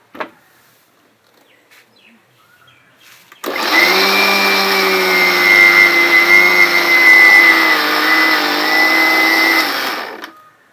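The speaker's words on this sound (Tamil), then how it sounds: "இதை வந்து மிக்சி கிளாஸில் போட்டு அடிக்க போகிறோம்" A mixer grinder blends kneaded dough for mango pudding, starting abruptly with a loud, steady high-pitched whir that runs for about seven seconds before cutting off, after a few faint handling knocks.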